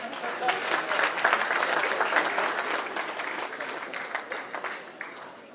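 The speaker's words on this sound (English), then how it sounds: "Let's all give ourselves a big round of applause." Audience at an evening marketers' event in Nairobi breaks into sustained, dense applause that swells early and then slowly tapers off, filling the room with steady clapping.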